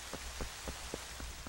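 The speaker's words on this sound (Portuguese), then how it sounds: "Tá chovendo demais, tá difícil de ver." Heavy in-game rain from Zelda: Twilight Princess hisses steadily across the whole stretch, with soft periodic thumps underneath, and no voices present.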